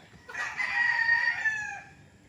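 One gamecock at a fighting-rooster training farm gives a clear, fairly close crow lasting over a second, with only faint background noise around it and no talking.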